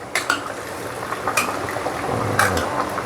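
Pot of mushroom curry bubbling at a boil, a steady, soft simmering hiss broken by a few light clinks of a utensil against the pot, close by with no talking.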